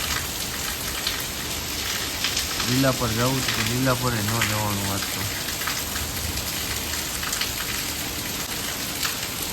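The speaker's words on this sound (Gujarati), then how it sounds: "ફૂલ વરસાદ આવે" Heavy rain pouring down in Morbi, a dense continuous hiss of drops on surfaces throughout, with a person talking briefly over it partway through.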